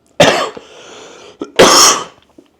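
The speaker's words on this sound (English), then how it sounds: "That cough hurts." Two harsh, loud coughs close to the mic, separated by a short pause with a faint throaty sound between them.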